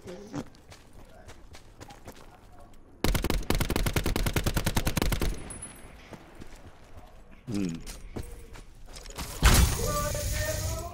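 Video game gunfire: a long, loud burst of rapid machine-gun fire up close, then scattered bursts and quieter shots, with mechanical clatter and voices talking in between.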